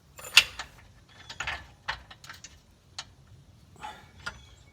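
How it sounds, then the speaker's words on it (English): Bolts on a Steeda sway bar bracket for a Ford Explorer are tightened with a ratchet, giving short clicking bursts in quick, uneven runs of close, crisp ticks with brief pauses between. "Tighten the brackets down"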